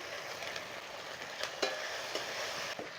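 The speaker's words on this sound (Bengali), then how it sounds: "সর্ষে ফোড়ন দিলাম এবারে এই যে পোস্ত লঙ্কা আর আদাটা বেটে রেখেছিলাম ওইটা দিয়ে দেবো" Mustard seeds tempering in hot oil with a ground poppy seed, green chili and ginger paste for a milk hilsa dish, giving a steady broadband sizzle with a few sharp stirring clicks and pops, close and alone.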